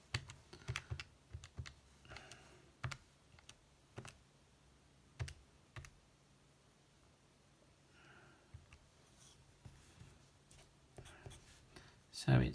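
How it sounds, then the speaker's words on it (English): Fingers press calculator keys in short clusters of soft, close taps separated by quiet pauses, with a sniff or two in between. "If you want it as a decimal, just type that in on your calculator."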